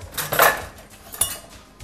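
Cutlery and a knife clink and clatter against plates in a kitchen, a loud cluster of sharp knocks followed by a lighter tap and a faint rattle, with no talking.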